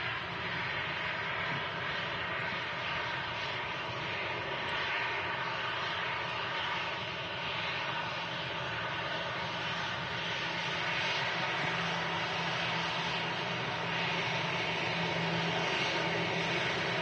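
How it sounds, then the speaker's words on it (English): An Emirates Airbus A380 at Manchester Airport begins its takeoff roll, a steady, broad jet-engine roar that holds at a fairly constant level and swells slightly toward the end, heard from a distance with no talking. "The Emirates A380 is taking his time to start the takeoff roll."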